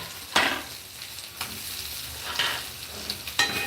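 Boiled potatoes being mixed into sabudana khichdi with crushed peanuts in a hot pan, a low sizzle broken by several rhythmic spoon scrapes and stirs, close and fairly loud.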